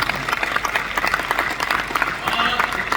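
Listeners at a Hindi poetry recital devoted to Lord Ram burst into steady, dense applause, with some crowd voices mixed into the clapping.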